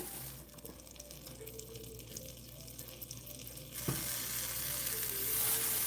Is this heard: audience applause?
no